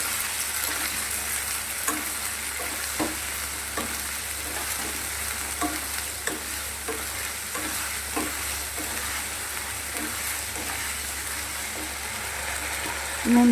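Ginger-cumin paste fries in a pan for a vegetarian jackfruit curry, a loud continuous sizzle with frequent spoon scrapes and stirring knocks throughout, and a brief louder clatter at the end.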